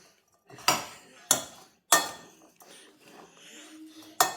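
A spoon mixes spices into a haldi, ginger and garlic pickle in a bowl, giving several sharp clinks against the bowl with softer scraping in between, close by.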